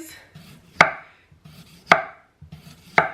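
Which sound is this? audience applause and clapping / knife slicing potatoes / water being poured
knife slicing potatoes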